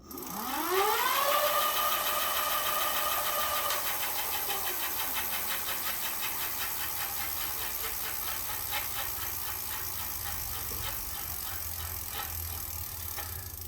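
A WALLKE X3 Pro eBike's newly replaced hub motor runs up to full throttle, a whine rising steeply in pitch over the first seconds and then holding a steady high tone with a dense buzzing rattle, close and continuous with no talk.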